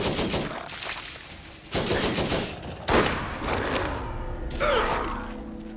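Turret firing in Borderlands, loud bursts of rapid automatic fire in several separate volleys, with mechanical game effects between them.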